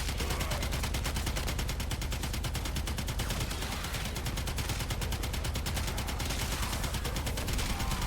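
Twin Kohmak pistols in the Warframe video game firing nonstop, a dense rapid stream of loud gunshots with no break across the whole stretch.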